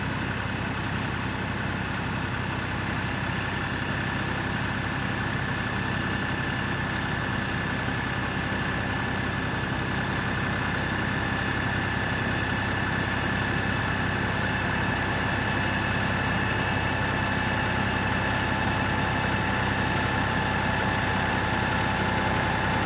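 A new farm tractor engine idles steadily on a garlic farm, a constant low rumble with a faint high whine running evenly throughout, no voices.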